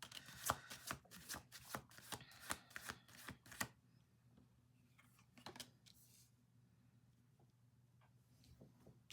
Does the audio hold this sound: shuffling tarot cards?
yes